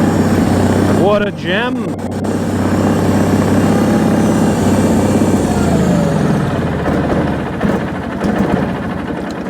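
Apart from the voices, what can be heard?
Bolens HT20 garden tractor engine idling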